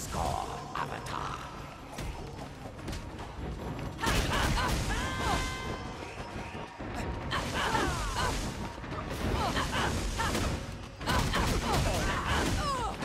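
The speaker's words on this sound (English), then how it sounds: "The fire punch combo is pretty sick" Fire punch combo attacks in The Legend of Korra video game: repeated whooshing, crackling strikes in dense clusters, with loud flurries of hits and impacts over game music and effects.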